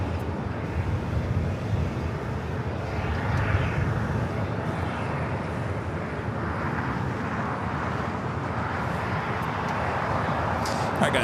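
A 13-year-old American Airlines Airbus jet bound for Dallas Fort Worth at LAX, a steady broad engine roar that stays loud and continuous throughout, with wind buffeting the microphone.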